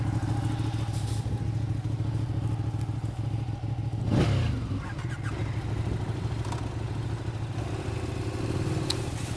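A KTM 1190 Adventure or Ducati 959 Panigale motorcycle is ridden on the road, its engine droning steadily with wind rush, a brief thump and clatter near the middle, and no talk.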